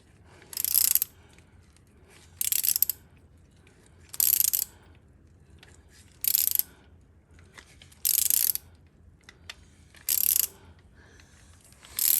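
A threading die cutting threads onto a hydraulic tube from a Ford 641 WorkMaster tractor, heard as seven evenly spaced bursts of high, scraping metal clicks, each about half a second long, with near silence between strokes.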